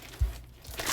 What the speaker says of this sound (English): Sorry for the noise. It's beads.